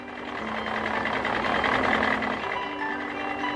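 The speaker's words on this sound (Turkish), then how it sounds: "Robot traktörün direksiyonuna geçti. Artık tarlaya gidiyoruz." A cartoon tractor engine, driven by a robot heading out to a field, runs as a steady, moderately loud hum with held tonal notes over it and no speech.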